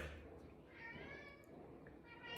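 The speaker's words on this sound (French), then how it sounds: "j'ai un petit chat dans ma maison ici qui fait un peu de bruit" A small house cat meows indoors, a couple of faint, drawn-out mewing calls heard quietly in a room with soft background noise.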